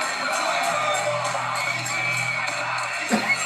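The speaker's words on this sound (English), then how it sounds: "That's not the calm crowd that was sitting down a few minutes ago." A large audience at a lively Sunday comedy show cheers, whoops and yells loudly and without a break, filling the room with dense crowd noise and a brief louder burst near the end.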